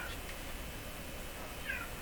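A cat meows once, a faint, short call heard over a steady electrical hum in a workshop where a Harman Kardon hk440 Vxi receiver is being repaired.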